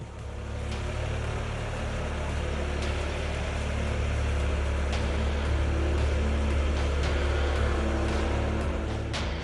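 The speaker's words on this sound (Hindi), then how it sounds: "श्रीनगर का अब ये वीडियो देखिए, यहाँ कैसे ट्रैक्टर से बर्फ हटाने की जद्दोजहद चल रही है।" A tractor clearing snow from a road in Srinagar runs with a steady low diesel rumble, continuous and moderately close, with faint clanks now and then and no voices.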